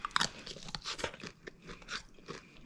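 Crispy Cajun chicken wings are bitten and chewed close up, with a sharp crunch at the first bite followed by a series of wet, crackling chews in an uneven rhythm, quiet and with no talking.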